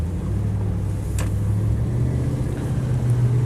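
A Land Rover Defender 90 50th Anniversary with a V8 and automatic gearbox drives along a lane, its engine giving a steady, close, low rumble with no change in rhythm. No one speaks.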